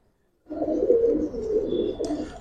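A silver Giribaz or colouring pigeon gives a single close, low cooing phrase lasting about two seconds after a moment of silence.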